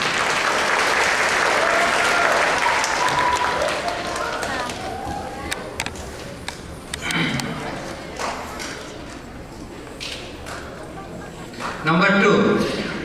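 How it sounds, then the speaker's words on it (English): An indoor audience applauds, with loud dense clapping at first that thins and fades, then scattered claps and a brief fresh burst near the end. "Please join me in a round of applause to commend their efforts."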